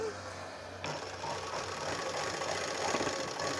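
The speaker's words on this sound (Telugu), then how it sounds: "ఇది మామూలు మిషన్ మీద నేను కుడుతున్నానండి" An ordinary domestic sewing machine runs steadily while stitching the narrow folded edge of a saree, giving a continuous fast mechanical whir at a low, even level.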